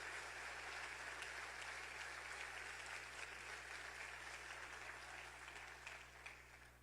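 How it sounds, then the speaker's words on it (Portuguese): A church congregation applauds during a family worship service, sustained dense clapping heard at a distance and fairly faint over a low steady hum, easing slightly toward the end. "aplauda ao Senhor"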